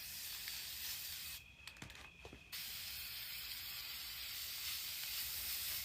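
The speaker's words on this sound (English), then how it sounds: "I'm not really sure how this spray paint is going to respond with the metal" Spray paint hissing from a can onto a metal sheet over concrete, a steady close hiss that cuts out briefly and then resumes in a continuous spray.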